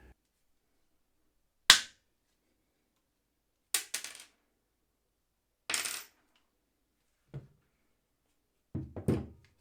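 Parkside Cobra pliers snipping wire: five sharp, separate cuts spaced about two seconds apart, some landing as a quick double snap, close and fairly loud with silence in between.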